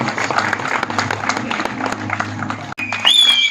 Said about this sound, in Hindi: महिमा चौधरी जी के लिए जोरदार तालियां बजाएं.